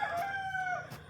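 A rooster crows in a drawn-out call with chickens clucking around it in a backyard coop, fairly close and clear, with no talk over the birds.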